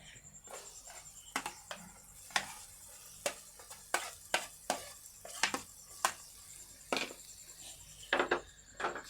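Chopped raw green mango being stir-fried with spices and mustard seed tempering, a low steady sizzle punctuated by repeated sharp clinks and scrapes of a spatula against the pan, close by with no talking.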